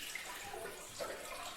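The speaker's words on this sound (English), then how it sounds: "Just wait for the water to run through." Water runs steadily through a toilet cistern being repaired, a soft, even hiss and trickle of flow that stays faint and continuous throughout.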